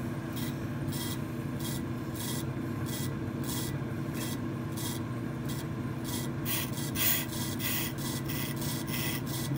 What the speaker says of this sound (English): Touching off the rotor just barely to find my zero.